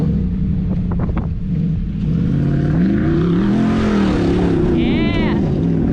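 A Hemi-powered Jeep driving off-road revs hard nearby, its engine note swelling and wavering, with wind buffeting and faint voices underneath.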